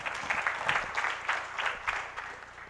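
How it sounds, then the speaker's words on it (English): An audience applauding after a lecture at the opening ceremony of an annual conference, a brief burst of fairly soft, muffled clapping with a pulsing, uneven texture. "let's give him a big round of applause."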